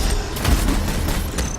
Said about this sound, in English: This is my auto cannon, which will blow those people down there, giving me quite a lot of damage.